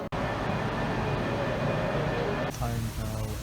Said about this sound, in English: So that's my train there.